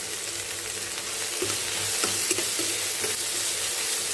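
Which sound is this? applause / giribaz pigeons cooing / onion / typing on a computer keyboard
onion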